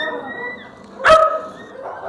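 Stray dogs bark in a single loud, sharp burst partway through, with quieter background noise around it.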